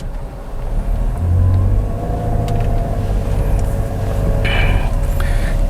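A Toyota Yaris Cross GR Hybrid drives along a road through water about 15 cm deep, giving a steady close rumble of tyres and engine with some splashing hiss, and no talk.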